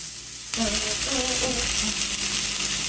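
Thick-sliced bacon sizzles in a frying pan, a loud steady hiss that starts suddenly as the strips hit the hot fat and continues with crackling pops, close up and alone.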